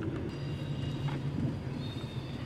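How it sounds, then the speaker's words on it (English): A Norfolk Southern NS264 freight train rolls past near the Hoosac Tunnel at Little Hoosac, North Adams, a steady low rumble of rail cars with faint metallic wheel noise, continuous and fairly close throughout. "They do know there's a big train there, right?"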